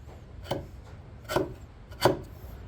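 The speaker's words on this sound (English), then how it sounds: "I widen it a little bit with a chisel." A chisel pares wood three times to widen a tight joint on an early 1800s wooden loom, each stroke a short close scraping rasp separated by quiet pauses.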